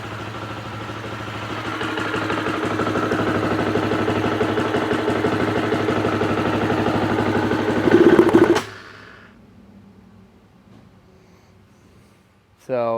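Husqvarna FE350 motorcycle engine with a fault that keeps it from revving, idling loudly up close with a rough clattering note and a brief rise before cutting out abruptly, leaving near silence and then a sudden noise at the end.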